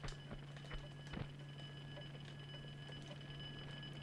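In the Tomb Raider II video game, an alarm rings with a steady electronic tone held under faint ticking and clatter, moderately quiet and continuous throughout.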